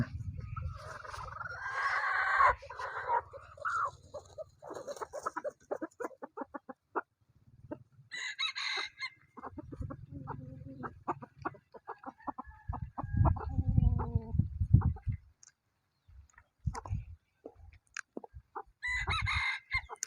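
A fighting rooster of Burmese breed crows in bursts amid hens clucking outdoors while foraging in the evening wind, with sporadic rustling and scratching sounds; moderately loud and fairly close.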